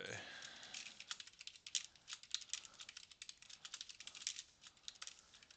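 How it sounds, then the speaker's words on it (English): Rapid, uneven clatter of keys on a computer keyboard, close and steady with brief pauses, continuing throughout. "I think I hear myself typing, so that's good."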